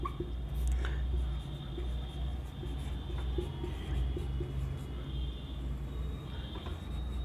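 A pen scratches across paper while a note is written by hand, producing soft, close, irregular strokes against a low steady background hum.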